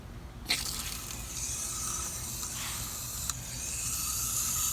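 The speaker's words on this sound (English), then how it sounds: "What we're going to do next is simply water the plant." Water spills steadily onto a potted plant's soil over fertilizer, a soft, close hiss and trickle that runs almost without a break, with a light tap or two along the way.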